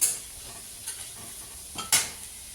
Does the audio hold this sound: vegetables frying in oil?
yes